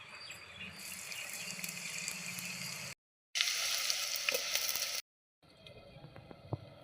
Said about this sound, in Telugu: ఆనియన్స్ వేసేస్తున్నాను.